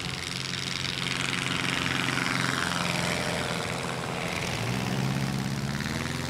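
A small propeller plane takes off downhill from a steep mountain airstrip in the Pyrenees, its engine a loud, continuous, close roar that shifts slightly in tone as the aircraft gathers speed.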